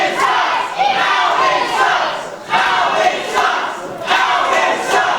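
Wrestling crowd at a live match shouting and cheering in loud, sustained waves, with surges of yelling rising and falling throughout; no clear talk over it.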